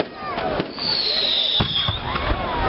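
Bonfire night fireworks go off continuously, with sharp bangs, crackles and a long rising whistle of a rocket, while voices murmur and exclaim in the background.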